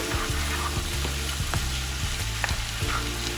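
Ground meat filling with powdered garlic and a pinch of pepper fries in a pan with a loud, steady sizzle and occasional light stirring clicks, heard up close with no voices.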